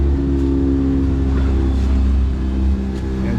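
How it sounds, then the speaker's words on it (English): A kicker outboard motor runs on a 2002 North River Mariner boat being water tested after a repower, a loud, steady engine drone with a slight swell in revs partway through. "So now we're going to do the kicker"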